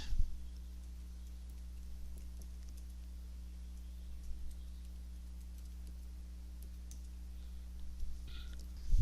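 A handful of faint, isolated computer mouse clicks spaced several seconds apart over a steady low electrical hum in a quiet room, with no talking.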